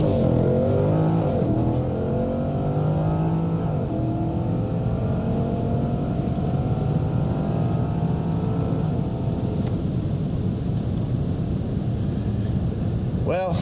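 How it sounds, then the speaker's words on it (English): A 971 Porsche Panamera Turbo with a Stage 1 tune accelerates hard on a quarter-mile run, its engine note rising through rapid gear changes into a loud, sustained roar heard from inside the car. "we're going to do a quarter-mile run just to see what the"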